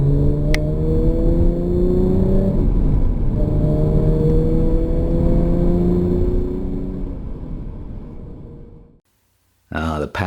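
Manual Jaguar F-Type Coupe accelerates hard, its engine note rising loud and close through two climbing pulls with a shift between, then easing off and fading to silence, followed by a brief burst of speech.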